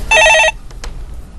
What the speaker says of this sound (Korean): 이번에는 제가 전화를 한번 받아보도록 하겠습니다